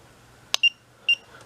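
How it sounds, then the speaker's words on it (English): A sharp click followed by two short, high electronic beeps about half a second apart from a Klein Tools ET310 breaker finder transmitter, clear and close in a quiet room. "turns green, starts beeping."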